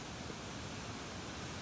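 A continuous broadband rush of cascading water from Randha Falls on the Pravara river, running at lower flow, fills the short stretch evenly and without pause.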